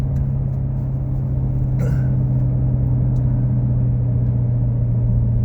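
Steady engine drone of a C7 Grand Sport sports car cruising at speed on an empty back road, with a low constant hum and road rumble and a brief faint rattle midway.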